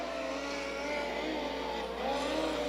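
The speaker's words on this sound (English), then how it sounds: "Brandon Gray, your 5th place car" Dirt track race cars roar around the oval at Minneapolis Raceway during a heat race, a continuous loud engine drone heard from the stands with a slight rising swell near the end.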